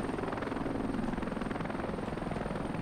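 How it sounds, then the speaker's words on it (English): A Chinook helicopter lifts off in the video game Heliborne, its twin rotors thumping in a fast, steady rhythm over a loud, close engine drone. "I just took off. I'm in the Chinook."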